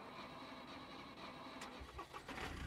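A truck engine in the survival game SCUM cranks and starts, then settles into a rough mid-pitched idle under a constant background drone.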